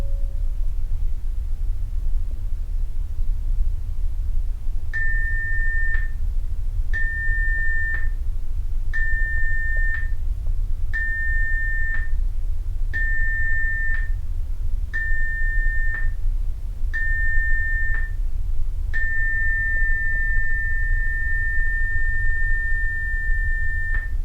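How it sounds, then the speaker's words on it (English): Cruise ship general emergency signal on the Carnival Breeze: seven short whistle blasts in a steady rhythm, then one long sustained blast, loud and clear over a constant low rumble of ship and wind noise. "the emergency signal consisting of 7 or more short blasts followed by a long blast on the ship's whistle"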